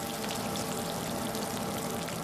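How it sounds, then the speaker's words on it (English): Snapping shrimp recorded underwater produce a dense, steady crackle like bacon frying, continuous fizzing clicks with no pauses, fairly quiet and alone. "Snapping shrimp sounds like bacon frying in a frying pan."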